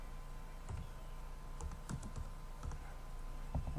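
Soft, quick keystrokes on a computer keyboard tap out a short burst of typing in a quiet room, with a few isolated clicks scattered through the background hum.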